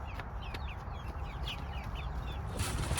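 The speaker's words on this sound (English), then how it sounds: "I've never seen a chicken eat ants like this chicken." A backyard chicken foraging for ants, with repeated soft clucks and chirpy calls close by over a steady outdoor background; no one speaks.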